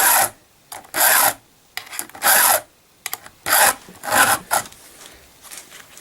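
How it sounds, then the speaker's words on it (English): A hand file sharpening chainsaw teeth makes close, crisp rasping strokes in short bursts of a few passes each, separated by brief pauses, with no talking. "they never really did more than 4 or 5 strokes with the file, and then they moved on to the next tooth"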